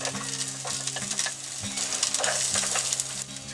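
Garlic sizzles in a hot pan with butter and oil, a close, steady crackling fry with light stirring scrapes and no voices.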